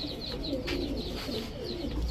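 A domestic pigeon, a Sapchila breed, coos softly and repeatedly in a close, quiet setting, low rolling calls recurring every half second or so with faint chirps above.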